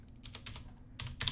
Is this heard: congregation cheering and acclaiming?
no